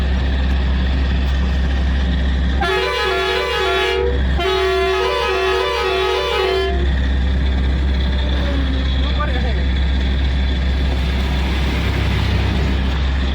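A red state transport bus passes a truck on a ghat road, sounding two long tonal horn blasts over the truck's loud, constant engine drone heard from the cab.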